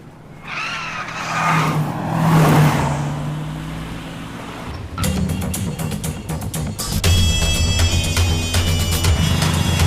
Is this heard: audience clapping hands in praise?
no